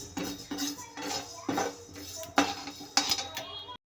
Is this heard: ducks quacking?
no